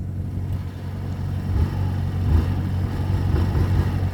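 A Neco Alexone Sport scooter engine starts, a low motor rumble that swells and steadies into a running idle, close and fairly loud.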